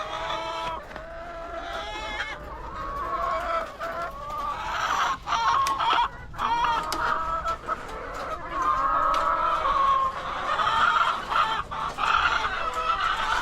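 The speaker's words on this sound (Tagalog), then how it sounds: "maingay yung mga alaga nating manok" A busy flock of chickens clucks and squawks continuously, with roosters crowing loudly in between, close and noisy throughout.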